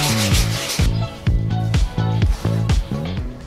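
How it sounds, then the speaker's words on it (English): Rhythmic back-and-forth rubbing of sandpaper on a painted leather chair between coats, about six strokes, close and fairly loud, with a low tonal hum underneath. "I'm gonna basically just keep sanding in between coats"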